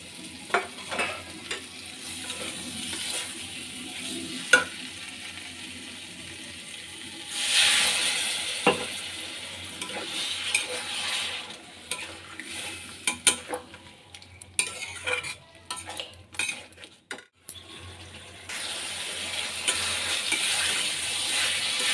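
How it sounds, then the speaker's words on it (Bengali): Potato and eggplant pieces frying in spiced oil for a tangra fish curry, a steady close sizzle with frequent stirring clatter and utensil scrapes against the pan, louder bursts partway through. "এবার আলুটা বেগুনটা একসঙ্গেই দিয়ে দেবো"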